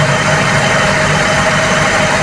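A Toyota 2E carburetor engine idles with a steady, loud, continuous hum and rumble, its speed held as the idle screw is adjusted, with no voices.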